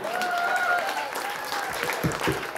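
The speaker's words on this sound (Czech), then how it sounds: "Zatleskejte tomuto muži." An audience at a slam poetry performance breaks into loud, sustained clapping. A voice carries over the start of the applause, and a few sharper claps stand out near the end.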